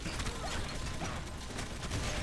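Sniper rifle reload in the first-person shooter Gotham City Impostors, a quick mechanical bolt and ratchet clatter buried in a dense, continuous wash of game noise and distant gunfire.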